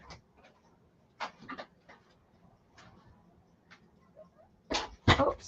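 A dog moves about and pants during a live stream, giving scattered short breathy bursts, sniffs and small shuffling noises, plus one faint whimper. The sounds are close and intermittent, grow louder near the end, and no voices are heard.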